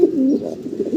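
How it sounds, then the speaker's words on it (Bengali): A pair of black Modena pigeons at a breeder's loft coo in a low, continuous rolling murmur, close and steady across the whole moment with no voices. "অনেক বড় সড়ো সাইজের ভিতরে এক জোড়া মডার্না কবুতর দেখাচ্ছি"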